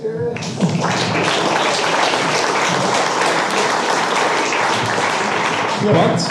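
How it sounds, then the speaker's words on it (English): An audience at a Vienna game developer meetup breaks into loud, sustained applause that fills the whole stretch, dense and even, with a faint voice near the end. "I think that deserves an applause"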